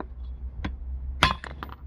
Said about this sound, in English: we're starting to pound out off of the hub side here